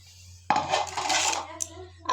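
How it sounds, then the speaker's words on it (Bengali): Raw potatoes tumble into a cooking pot while broiler chicken curry is being prepared, making a short, close burst of clattering and knocking against the metal that then settles into quieter rattles. No one speaks. "প্রথমে আলু দিয়ে দিব।"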